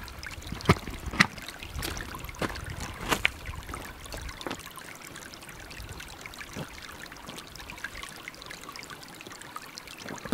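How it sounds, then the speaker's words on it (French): A small stream flows and trickles steadily nearby, with soft splashes and a few sharper water pops early on, and no voices. "Le doux bruit du ruisseau qui coule juste à côté"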